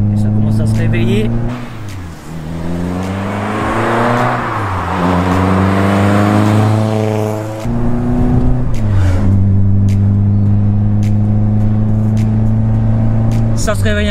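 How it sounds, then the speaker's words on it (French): A Renault Clio 16S with its F7P four-cylinder engine pulls hard in third gear, the harmonic drone climbing steadily in pitch through two rising sweeps, loud and close inside the car, with someone talking over it. "Vous avez vu la reprise avec le bruit du F7P en cadeau."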